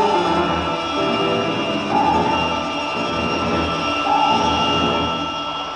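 A deep, continuous aircraft engine roar from the science fiction series Voyage to the Bottom of the Sea, a broad rumbling drone with gentle swells in intensity, moderately loud and without voices.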